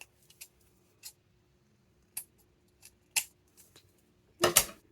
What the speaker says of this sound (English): find my scissors. I'm just going to cut off the two ends of this.